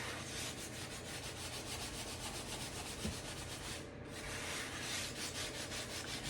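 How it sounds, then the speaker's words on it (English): A new sponge, scratchy side down, scrubs coarse salt across a rusty cast iron skillet, making a steady, close gritty rubbing with a rhythmic back-and-forth texture and no talk. "brand new sponge, scratchy side down. We're just gonna drag our way through this salt up to where the rust is."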